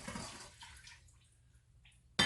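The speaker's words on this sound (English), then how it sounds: "I'm going to add the water." Water poured onto sugar in a pan to make gulab jamun syrup in a home kitchen: a brief splashing pour that fades away, ending in a sudden louder burst of noise.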